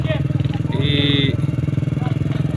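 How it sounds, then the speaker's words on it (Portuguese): Motorcycles arriving for a trail ride in Tabira, Pernambuco, their engines rumbling steadily and fairly close throughout, with a people talking over the engine noise. "Tá chegando mais moto aqui."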